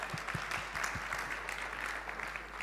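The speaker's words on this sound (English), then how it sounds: "Let's give Israel a round of applause." At a private-sector forum on displacement, an audience claps for Israel, a fairly even wash of many hands with a few sharper individual claps, moderately distant and with no speech.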